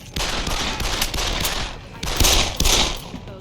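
Rapid bursts of loud automatic gunfire in the video game Deus Ex: Human Revolution, several rattling volleys in quick succession, harsh and close.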